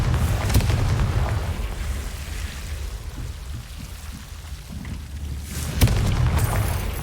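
Confringo blasting spells in Hogwarts Legacy explode as heavy, rumbling booms over a constant crackling wash of game noise, with a sharp burst near the start and another louder hit toward the end.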